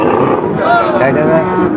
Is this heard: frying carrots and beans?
no